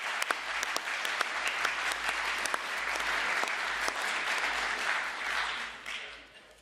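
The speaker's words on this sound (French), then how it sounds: "on va d'abord vous applaudir" Dense, sustained applause from an audience fills the room after a talk on saving Europe, holding steady before tapering off near the end.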